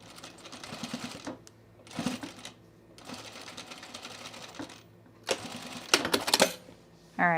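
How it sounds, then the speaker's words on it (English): Sewing machine stitching a zip hoodie seam in short bursts with pauses between runs of rapid mechanical stitching, moderately close and clear with no talking. "Spread this apart so I can stitch right where I've already been."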